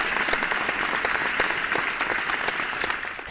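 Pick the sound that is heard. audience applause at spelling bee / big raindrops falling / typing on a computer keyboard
audience applause at spelling bee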